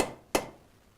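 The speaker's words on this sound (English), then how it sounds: "I take my ball peen hammer and then I come down flat on it." A single sharp metallic strike of a ball peen hammer coming down flat on a copper rivet, close and loud, ringing briefly before fading into quiet; a softer knock precedes it.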